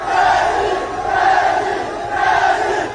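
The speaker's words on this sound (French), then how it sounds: "Devant le domicile d'Ousmane Sonko, la foule afflue." A large crowd gathering outside Ousmane Sonko's home, a dense roar of many voices chanting and shouting in loud swelling waves.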